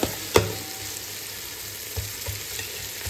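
Onions frying in oil for mutton biryani, a continuous close sizzle broken by a sharp clack of the stirring spoon early on and a few softer scrapes later, with no voices.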